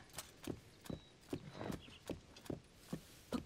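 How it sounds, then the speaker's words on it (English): Horse in Zelda: Tears of the Kingdom walking with steady, evenly spaced hoof clip-clops, about seven or eight soft close steps in a few seconds, with no talk. "Let me move my horse away so it doesn't fucking die."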